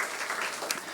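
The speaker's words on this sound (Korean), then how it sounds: "박수 한번 해줘요" A brief burst of scattered applause during a Korean church service, hands clapping for about a second with no voices.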